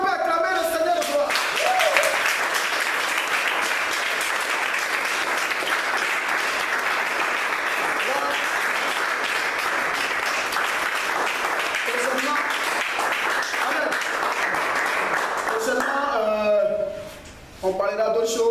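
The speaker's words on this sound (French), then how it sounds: "Est-ce qu'on peut acclamer le Seigneur de gloire?" A church congregation applauding to acclaim the Lord, sustained loud clapping and cheering for about fifteen seconds before fading out, with a voice over it near the end.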